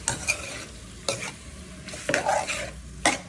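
Ridge gourd, taro stolon vegetables and dried fish sautéing in a hot pan, with a steady sizzle broken by several scraping stirs of a spatula, close and fairly quiet.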